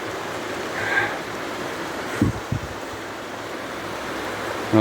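River water at Moratock Park in Danbury, North Carolina, flows as a steady broadband rush, with a few brief thumps and rustles near the recorder partway through.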